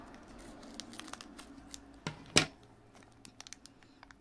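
Scissors cut open the black foil wrapper of a booster card pack, giving soft crinkling and small snips, then a sharp louder tearing cut near the middle, close and quiet with light handling noise around it.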